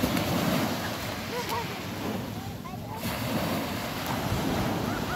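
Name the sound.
sea waves at the beach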